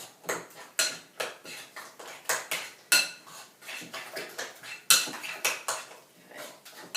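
Two eggs are whisked in a bowl with a utensil, giving a steady run of quick, regular clinking strokes against the sides, close and fairly loud with no talk.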